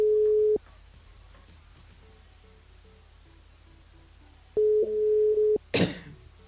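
Telephone call tones on a radio station switchboard: a steady ringback tone at the start, quieter repeating beeps, then another sustained tone, ending in a burst of noise as the line picks up.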